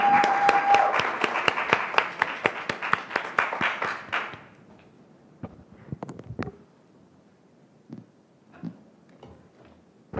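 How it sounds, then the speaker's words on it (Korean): Audience applause welcoming a student speaker at a Korean youth speech contest, a loud, dense burst of rapid clapping for about four seconds that stops abruptly, followed by faint scattered knocks and rustles in a quiet hall. "박수로 맞이해 주십시오."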